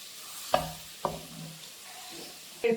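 Fish coated in chilli paste frying in a pan, with two sharp scraping knocks as it is turned over, a low sizzle underneath and a final clatter at the end.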